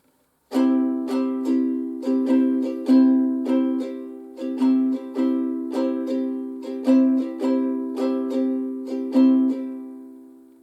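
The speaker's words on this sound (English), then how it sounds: "this is often called the island strum or calypso strum" A ukulele strummed alone in a bouncy, syncopated island or calypso strum, bright chords repeating in a steady loop with alternating down and up strokes.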